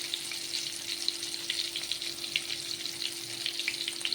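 Bitter gourd pieces fry in hot oil with a steady, close sizzle: a continuous bright hiss flecked with small crackles and pops, with no talking.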